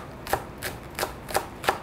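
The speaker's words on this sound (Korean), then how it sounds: "그리고 대파 썰어서 준비해 놓을게요" A knife chops green onion (daepa) on a cutting board while ingredients for Pad Thai are prepared. Five crisp, evenly spaced cuts land about a third of a second apart, close and fairly quiet, with no talking.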